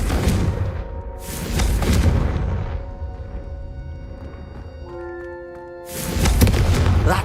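Confringo fire spell blasts in the Hogwarts Legacy game: a couple of loud, broad whooshing bursts at the start, a quieter stretch of tonal magical chimes, then another heavy burst near the end.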